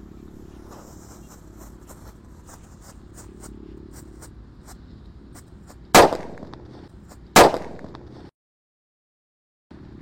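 A red Disco Happy Flower firecracker goes off outdoors, giving two sharp, loud bangs a second or so apart over a sputtering, crackling hiss before falling silent.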